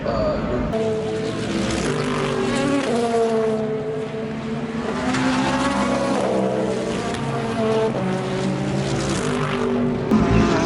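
Race cars roar past at the 24 Hours of Daytona in daytime running, their engines a loud, continuous blend of rising and falling tones throughout, with a voice talking over the track noise.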